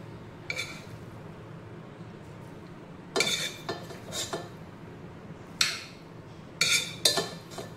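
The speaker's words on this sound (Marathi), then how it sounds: "काढून घेते एका भांड्यामध्ये" Cooked quinoa being spooned from a pot into a vessel, with scattered metallic scrapes and clinks of a spoon against the pan in short bursts over a quiet background.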